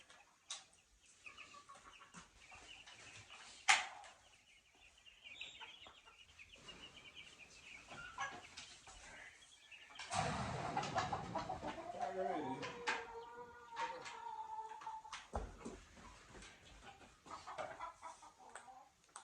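Chickens cluck and squawk nearby, with a few clattering bumps and occasional voices, the clucking growing busier partway through.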